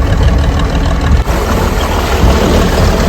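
A motor fishing boat for dol-net fishing runs at sea with a loud, steady engine drone and broad wash of wind and water noise, close and continuous throughout.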